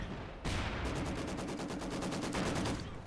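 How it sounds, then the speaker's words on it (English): Sustained machine gun fire in the Company of Heroes 2 World War II strategy game, a Soviets versus Wehrmacht battle: rapid, dense bursts of rounds with a continuous rattling rhythm, loud and steady across the whole stretch. "Sounds like there's an MG up there."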